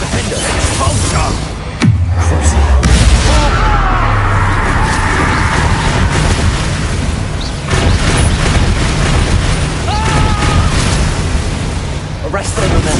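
Expulsor explosive spell blasts in Hogwarts Legacy combat, heavy booming bursts over a dense, continuous clash of battle effects and music, with one deep blast standing out near the start.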